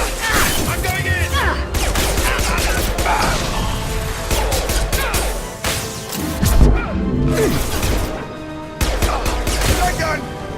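Shotgun blasts and heavy combat fire from Mass Effect 2 crack out repeatedly in loud bursts and crashes, dense and close, with a voice shouting between shots.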